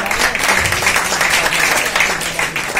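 Loud applause from a crowd at a business event speech, dense and continuous clapping that fills the whole moment, close and steady with faint crowd murmur underneath.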